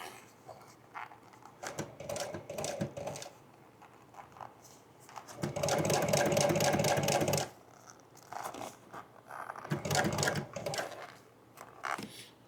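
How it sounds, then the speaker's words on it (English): A sewing machine stitches upholstery on a dog-damaged chair, running in several bursts of rapid, steady needle chatter. The middle burst is the longest and loudest, with quiet pauses between runs. "We'll keep sewing it."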